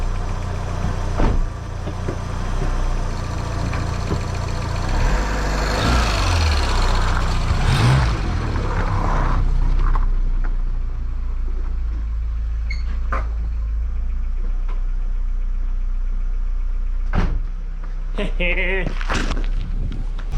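A Volkswagen MK2 Jetta with a 1.8 engine idles steadily up close, a low continuous rumble with a few brief knocks and clicks near the end.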